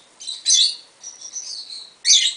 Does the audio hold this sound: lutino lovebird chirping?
yes